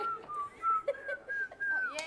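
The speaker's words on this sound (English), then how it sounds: "he just learned to whistle" Someone whistles a simple wavering tune, thin and fairly close, with a few short breaks between notes over a couple of seconds on a game show set.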